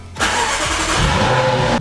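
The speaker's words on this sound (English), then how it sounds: "That was until I started the car today" A Jaguar F-Type SVR V8 cranks and fires up, the engine catching after a short quiet moment and settling into a loud, steady, rumbling idle close by, with no voices.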